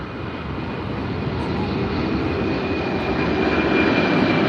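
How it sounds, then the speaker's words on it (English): Loud, steady roar of airplane engines at LAX building gradually, a broad rumbling drone with a high whine on top, continuous throughout. "Those planes are loud,"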